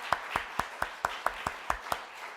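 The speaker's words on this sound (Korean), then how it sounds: "여기까지 인도하신 에베네셀의 하나님 앞에 우리 박수로 영광 돌리면 좋겠습니다." A church congregation at a New Year's Eve service claps in an even, steady rhythm of about nine claps, quiet and somewhat distant.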